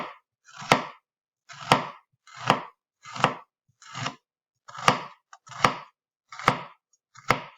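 A knife chops through food on a cutting board in a kitchen, about nine crisp separate cuts at a slow, even pace, close and alone with silence between strokes.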